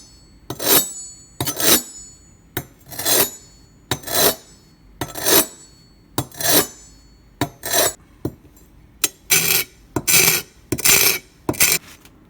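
A knife blade tip being deliberately rounded off on a sharpening stone: about a dozen loud, close, gritty rasping strokes in a steady rhythm, each separated by a short pause, quickening slightly toward the end.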